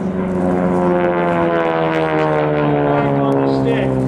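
A World War 2 propeller airplane drones loudly overhead at an airshow, its steady buzzing engine tone holding strong throughout the pass while an announcer talks over it.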